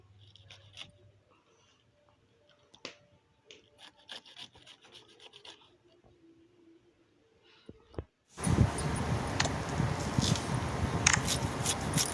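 A knife cuts through a banana flower with soft scraping and rubbing strokes, quiet and close, in short irregular bursts; a much louder, steady broadband noise abruptly takes over near the end.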